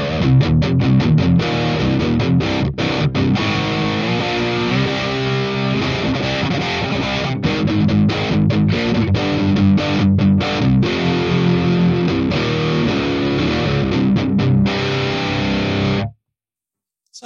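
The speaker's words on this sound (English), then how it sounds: "this is just the Orange Dark Terror slight little distortion sound I came up with." A distorted electric guitar through an Orange Dark Terror amp plays continuously with a gritty, crunchy tone, loud and steady, then cuts off abruptly near the end.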